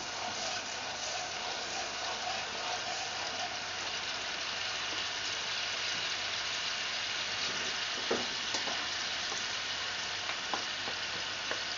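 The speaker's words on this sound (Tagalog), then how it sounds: "Now we can add the lemon juice. Mix it up." Garlic honey butter sauce sizzles steadily in a pan as lemon juice is stirred in, a constant frying hiss with a few faint scrapes of the utensil near the end.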